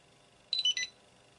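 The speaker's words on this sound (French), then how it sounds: "le bip nous confirmant qu'on est bien appareillé" Short electronic beeps from an Inateck Bluetooth wireless barcode scanner confirming pairing: a quick cluster of two or three bright tones lasting under half a second, clear against a quiet background.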